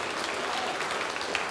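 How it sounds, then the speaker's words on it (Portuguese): A church congregation applauds during a sermon, with steady, dense clapping from many hands at a fairly even level throughout and no pauses. "Vamos aplaudir mais ao nome de Jesus"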